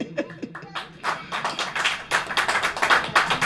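An audience at a church service claps, starting with a few scattered taps and building into steady, dense clapping that grows louder toward the end.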